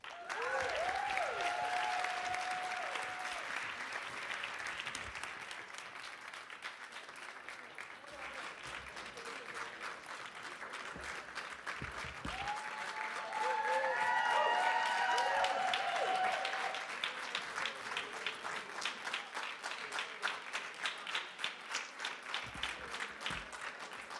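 Sustained applause from a conference audience after an international panel discussion at a prison-focused gathering, a steady dense patter lasting throughout, swelling midway, with a host's amplified voice speaking over it at times.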